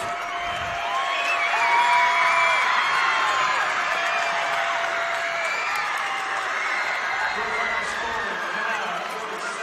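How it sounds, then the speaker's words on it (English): A crowd at a 2A girls state basketball championship game between South Sevier and Kanab roars steadily on its feet, with sustained cheering and shouts filling the gym throughout. "Kanab crowd on their feet."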